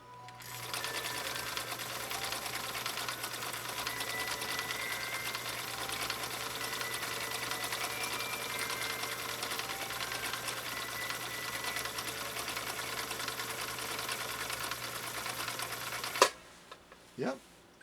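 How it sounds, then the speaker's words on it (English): 1960 Viking Husqvarna CL-21A sewing machine stitching a cam B pattern, a steady rapid mechanical whir and needle clatter running for about sixteen seconds, then stopping with a clunk and a couple of brief knocks. "we'll lay down our next stitch off of cam B"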